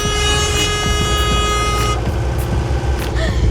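Loud, sustained truck horns blare over busy road traffic in Pushkar, Rajasthan, India, one long tone holding for about two seconds before other honks and engine noise continue.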